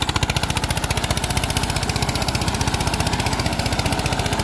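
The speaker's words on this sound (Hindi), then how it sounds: "जो ट्रैक्टर ये चल रहा है" A 241 tractor from Haryana runs in gear, its engine thumping in a fast, steady, even rhythm of loud chugging pulses from start to end, close by with no voices.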